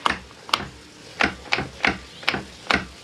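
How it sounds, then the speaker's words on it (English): Glendinning throttle synchronizer actuating aboard a 1996 Tiara 4000 Express cruiser with twin 8.3L Cummins diesels, heard as six or so sharp mechanical clicks and short rasps at irregular intervals over a low steady engine-room blower hum. "you can hear the Glendinning actuating"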